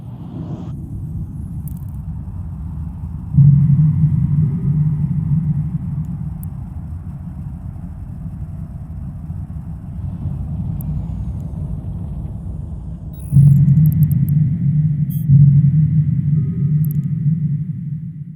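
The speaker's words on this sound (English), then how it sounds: "Warp drive active." A spaceship's warp drive in EVE Online gives a loud, steady low rumble that swells twice into heavier surges, with faint high tones above, and no talk.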